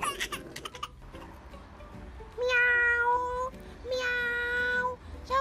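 A voice imitates a cat's meow in a Paw Patrol toy play scene, giving two drawn-out, high nasal meows close up after some quieter background sounds.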